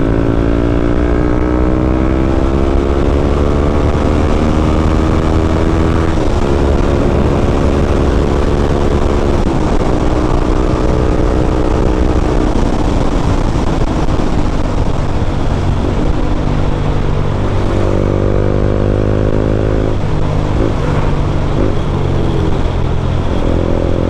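A Honda CB150X motorcycle on an open provincial road drones loud and close during a top-speed run, the engine pitch climbing steadily through the gears, with a heavy constant rush of wind noise.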